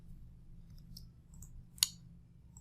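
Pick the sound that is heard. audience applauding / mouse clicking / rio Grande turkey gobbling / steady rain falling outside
mouse clicking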